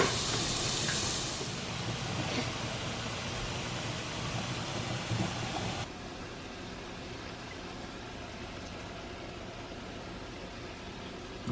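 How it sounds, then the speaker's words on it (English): Onions cooking in a hot pan for a stir fry, a steady broad sizzle and hiss throughout, fairly faint and even, dropping slightly in level partway through. "Now they're gonna cook for 4 to 5 minutes until they're translucent and tender."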